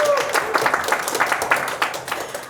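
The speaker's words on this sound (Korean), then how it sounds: "박수 한번 주세요" Applause from a seminar audience at a Krafton Jungle talk, a dense patter of claps at moderate volume with scattered louder hand strikes and a faint voice-like murmur mixed in.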